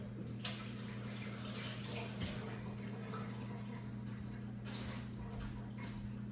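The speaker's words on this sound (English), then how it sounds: "let me wash my hands" A kitchen tap runs in a continuous, fairly quiet stream while hands are washed beneath it, over a low steady hum.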